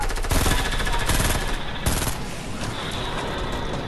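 Rapid automatic gunfire in a video game, a dense burst of rattling shots that continues for a few seconds before tailing off, loud and close with no talk over it.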